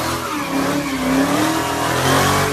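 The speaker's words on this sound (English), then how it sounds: "I got the front wheel drive burnout that you've definitely seen before." A Hellcat-swapped Honda Accord does a front-wheel-drive burnout, its engine roaring loudly and steadily with rising revs and tire squeal, close and continuous.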